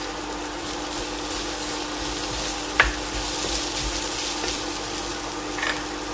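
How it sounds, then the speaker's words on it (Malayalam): Crushed chili sizzles with sautéed onions and a little turmeric in a pan, giving a loud, steady frying hiss up close, broken by a couple of brief louder spatters or stirring knocks. No one speaks. "അപ്പോൾ ചതച്ച മുളകൊക്കെ നന്നായിട്ട് മൂത്ത് വന്നിട്ടുണ്ട്."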